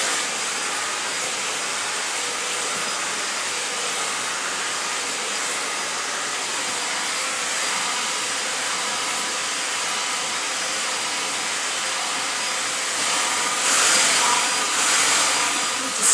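A hair dryer blows curly hair with a steady, loud, broadband whoosh, running continuously with slight changes in pitch as it moves near the end.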